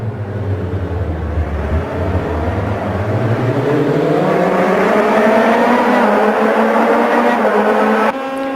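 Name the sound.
race car engine in a video game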